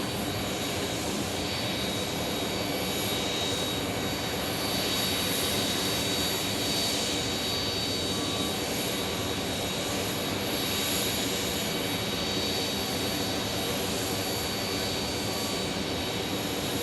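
A UPS Boeing 747 jet at Phoenix Sky Harbor Airport produces a loud, steady engine roar and broadband rush that hold for the whole stretch with only slight swells. No voices are present.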